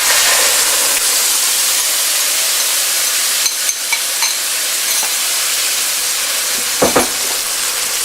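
Onion paste hits a hot pan for a shrimp malai curry and sizzles loudly as a steady, close frying hiss, with a few scrapes and clinks from stirring near the end.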